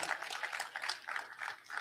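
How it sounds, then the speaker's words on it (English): Faint, distant applause from attendees at a community meeting, a thin scatter of hand claps continuing steadily with no voices over it. "Give her a round of applause"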